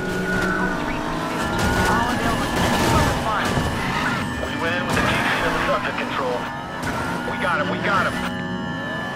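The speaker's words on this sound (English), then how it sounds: "we're pursuit of a Chevrolet Camaro" Chevrolet Camaro engine roaring during a police pursuit in Need for Speed Payback, a steady loud drone with impacts and crashes, police radio chatter and voices talking over it throughout.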